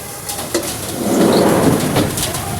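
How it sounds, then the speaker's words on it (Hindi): Light rain falls outdoors at a house in Noida as a soft, steady hiss that swells slightly midway, with faint bird chirps in the background. "चलो तो मिलाते हैं बारिश से। और ये हो रही है अभी तो हल्की हल्की हो रही है"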